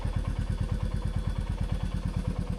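A motorcycle engine runs at low speed with an even, rapid pulsing thump as the bike begins to roll, close and steady with no voices.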